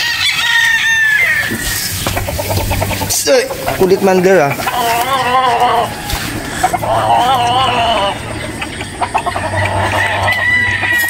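Gamecock roosters crow and chickens cluck close by at a game farm in Batangas, several birds calling over each other while someone talks throughout.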